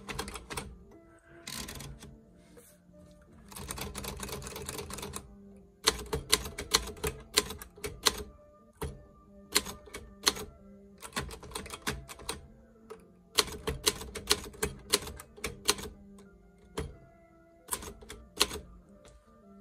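A 1963 Hermes 3000 manual typewriter with script typeface clacks in close, crisp bursts of rapid keystrokes, separated by short pauses and punctuated by carriage movements, with no talking.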